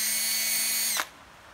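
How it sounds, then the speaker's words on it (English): An electric drill whines at high speed on a workbench, a steady bright high-pitched spin that cuts off abruptly just before the end, leaving near silence. "Just for curiosity, I wondered how fast this drill actually spins."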